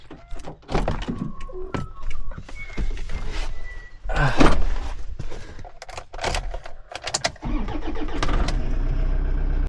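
A ute's engine cranks and starts near a riverbed resort ahead of a drive, with door clunks and a power window whirring around the loud, rough mid-pitched idle that settles into a steady run.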